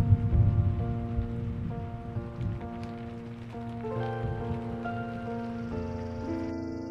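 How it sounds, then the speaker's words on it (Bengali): Light drizzling rain falls steadily in a March rainy-season setting, a soft, continuous patter running throughout alongside some tonal background sounds, with no voices. "তাও ঝিরিঝিরি বৃষ্টি পড়েই চলেছে"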